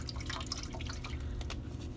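Cold water pours steadily into a container for a craft project, a close, continuous splashing trickle lasting the whole two seconds with no voices.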